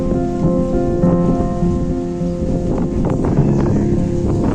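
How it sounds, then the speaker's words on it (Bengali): Thunder rumbles low and continuous through a loud, windy storm on a rooftop garden, with a dense rushing wash of wind and leaf noise throughout and a deeper swell near the end. "আকাশ ডাকছে।"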